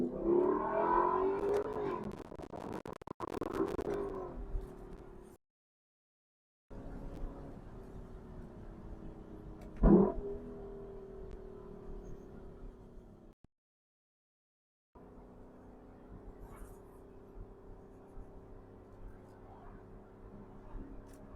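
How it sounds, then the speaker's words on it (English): A 2024 Lexus LC 500 Convertible engine rumbles and revs in bursts, with a sharp throttle blip midway, interrupted by two brief silent gaps, with a close, steady idle-like drone between the revs. "just that sound of this motor is the best part"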